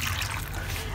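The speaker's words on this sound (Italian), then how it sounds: "Verso un bel bicchiere d'acqua, vista la quantità di cipolla" A generous glass of water poured into a wide pan of sliced onions, a steady close trickling splash filling the short moment.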